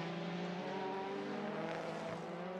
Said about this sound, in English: Get the engine wound up down the start-finish straight.